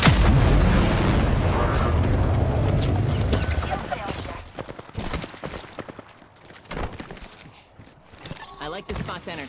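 Heavy gunfire in Apex Legends, dense bursts and booms up front, then rapid scattered shots and sharp cracks, with in-game voices heard over the firing.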